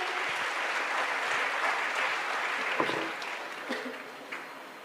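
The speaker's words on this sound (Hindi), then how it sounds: "एक बार जोरदार तालियों से स्वागत करेंगे।" An audience at a Sanatan religious conference in Karauli claps warmly for a few seconds, then the applause thins out and fades to a few scattered claps.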